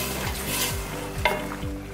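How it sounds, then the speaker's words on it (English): Half a chopped onion sizzles in hot fat in a pan, with a steady frying hiss and a few soft stirring scrapes close by. "We have about a half an onion that we chopped up that we're just going to let start to saute and caramelize and get sweet."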